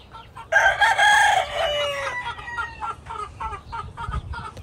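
Cowan rooster on a farm in California crowing once, loud and close, with a long drawn-out call followed by softer clucks and farm ambience.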